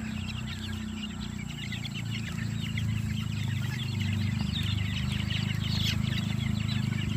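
Gamefowl chicks and chickens cluck and peep in an outdoor range area at a breeding farm, a dense chorus of many birds against a steady low rumble throughout.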